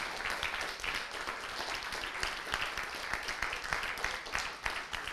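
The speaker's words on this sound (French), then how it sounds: "J'aimerais qu'on applaudisse tous les candidats qui ont œuvré." A crowd applauds the candidates at the final of an eloquence contest in Le Mans, steadily for several seconds, many hands clapping at a moderate distance in a dense, even patter.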